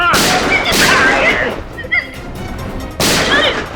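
Gunshots ring out in a Hindi TV crime drama scene, two sharp blasts close together and another a moment later, mixed with tense dramatic scoring and background sound.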